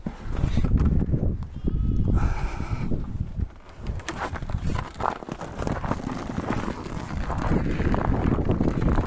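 A village herd of sheep and goats gives repeated bleats amid wind-like rushing noise and shuffling, the calls rising clearly above the steady outdoor din.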